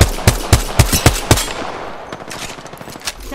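Gunfire in Apex Legends: a rapid, evenly spaced burst of about six loud, close shots, followed by fainter, more distant scattered shots and lingering battle noise.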